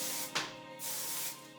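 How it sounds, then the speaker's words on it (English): Refinish Control hairspray misted onto hair styled with a mini crimper, two short hissing bursts from the aerosol can, close and fairly quiet. "then finish it with Refinish Control Hairspray"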